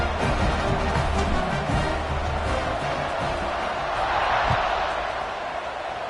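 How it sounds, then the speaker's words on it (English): A college football video game stadium crowd roars at kickoff, a dense, continuous wash of cheering and noise with a few thuds, holding steady and loud throughout. "They're set to kick it off, and this crowd now ready to get behind them."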